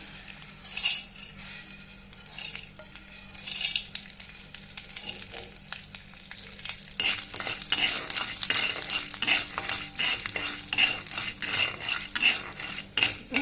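Urad dal fries in oil in a pan for an ash gourd kootu. A metal spoon stirs and scrapes it with quick clinks under a soft sizzle, sparse at first and then busier and steadier.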